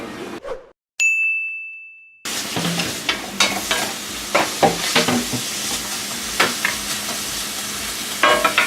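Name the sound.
sautéing in a frying pan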